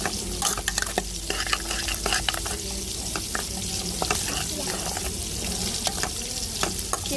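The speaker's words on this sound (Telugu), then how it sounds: "ఇప్పుడు మనకి గ్రేవీ అయితే బాగా మరుగుతూ ఉంది కదా" Gravy for a cashew chicken curry bubbles and sizzles in a pot, with scattered clicks and scrapes of stirring over a constant low simmer.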